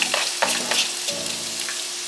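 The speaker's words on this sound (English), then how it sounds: "First things first, I'm gonna cook the onions." Onions fry in avocado oil, a brief close sizzle with a few quick stirring scrapes at the start and a faint underlying hum.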